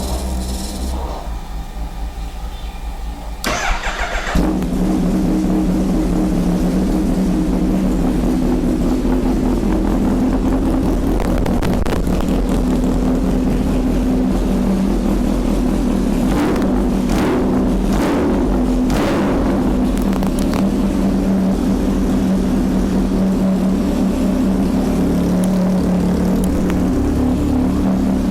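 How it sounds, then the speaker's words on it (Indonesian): A supercharged 2018 Kawasaki H2 motorcycle engine starts and then runs steadily at a loud, close, droning idle for nearly half a minute, with a few brief rises in pitch and no talking. "Seperti itu suara Kawasaki H2 dengan supercharge."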